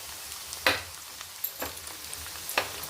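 Onions frying in a pan for prawn curry, a soft steady sizzle with a few sharper stirring scrapes spaced through it, fairly quiet and close with no talking.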